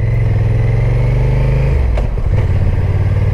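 Engine of a 2022 Honda NT1100 motorcycle rumbling steadily at low, slow riding speed, a loud, close drone with a brief dip in pitch midway as the throttle eases, then settling back to an even hum.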